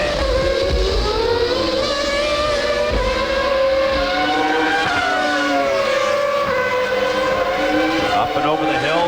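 Formula 1 cars of the 1997 Japanese Grand Prix screaming around the Suzuka circuit, high revving engine whines rising and falling as cars pass, loud and continuous beneath commentary.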